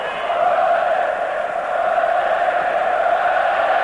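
Football stadium crowd at a 1988/89 Serie A match against Juventus, chanting olé in a steady, sustained roar that fills the whole stretch, broad and distant with no single voice standing out.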